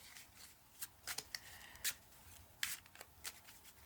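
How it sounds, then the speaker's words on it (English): A deck of playing cards is shuffled up close, with crisp riffling bursts and irregular soft snaps and flicks at a quiet level, and no talking. "Just get the cards nice and shuffled."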